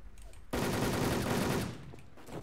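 Rapid automatic gunfire in a Turkish-played shooter video game featuring the Tizona legend, a loud sustained burst of shots that starts abruptly and runs about a second before tapering off.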